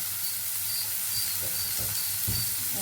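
Onion sautéing in a pan for mushroom curry, a soft steady sizzle with a few faint stirring scrapes.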